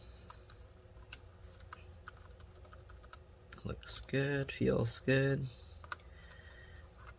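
Keys on a 13-inch mid-2015 MacBook Pro A1502 keyboard are pressed one after another during a disassembly and repair, giving soft, rapid close-up clicks, with someone speaking briefly partway through.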